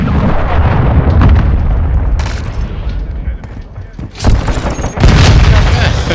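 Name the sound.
cruise missile explosion in a video game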